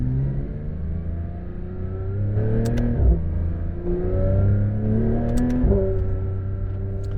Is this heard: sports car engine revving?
yes